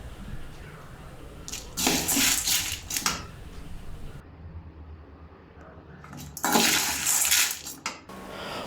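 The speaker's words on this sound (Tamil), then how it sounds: "சோயா பீன்ஸையும் ராஜ்மாவையும் வந்து நம்ம மிதமான சூட்டில் வந்து நல்லா வதக்கி எடுத்துக்கலாம்." Soya beans and rajma are sautéed over medium heat, with bursts of dry rattling and scraping against the pan in two loud spells separated by a quieter stretch.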